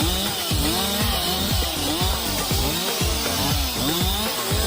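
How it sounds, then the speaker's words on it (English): A Stihl chainsaw cutting into a tree, loud and close, its engine revving in repeated surges as the chain bites and eases through the wood, with no voices. "The machinery they use includes Stihl MS-170 harvesters and chainsaws."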